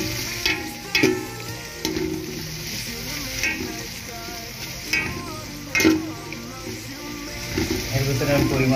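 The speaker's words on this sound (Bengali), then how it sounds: "এবার আমি ভালো করে নাড়া চাড়া করবো।" A fish curry with potato, green papaya and snake gourd being stirred in a pan, loud steady sizzling with repeated scraping clanks from the spoon at irregular intervals throughout.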